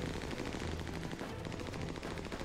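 Sustained rapid gunfire rattles through a firefight in the video game Army of Two: The Devil's Cartel, a dense continuous burst of automatic shots that stays fairly even throughout.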